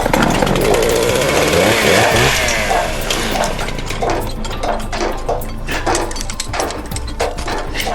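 A chainsaw roars loudly and continuously, its engine pitch shifting as it bites into a tree branch, with rough rhythmic cutting texture toward the end.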